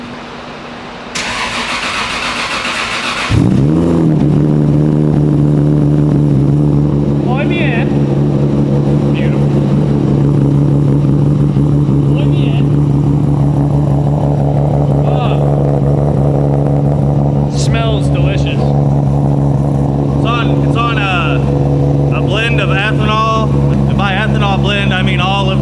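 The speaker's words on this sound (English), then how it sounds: "2J cold start." A Toyota MK4 Supra's 2JZ engine turns over and catches on a cold start, jumping to a loud, high idle that holds steady and nearby. Voices talk faintly over it later on.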